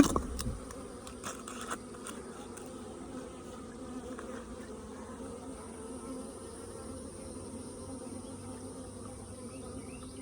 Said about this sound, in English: I see the bees.